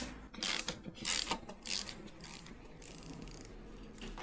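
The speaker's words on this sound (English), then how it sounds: "12 millimeter socket, and we're just gonna take this bolt off right here." A ratchet with a 12 mm socket loosens the kickstarter bolt on a KLR 250 motorcycle, giving a few quick bursts of close, quiet clicking strokes.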